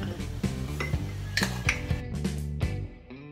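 A spoon scoops baking soda from a jar, giving a series of quick metallic clinks and taps against the container, close and fairly quiet, with no speech.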